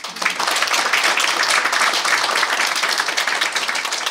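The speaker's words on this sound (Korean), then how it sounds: "그럼 박수 한번 쳐주세요" An academic symposium audience breaks into sustained applause, a dense wash of many hands clapping at once, holding steady for several seconds before easing slightly.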